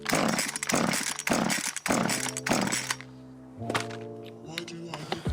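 An Echo 2500T petrol chainsaw revs hard through a series of cuts, with repeated loud bursts and thunks, then sputters and falls to a weak, uneven idle as its two-stroke fuel runs out.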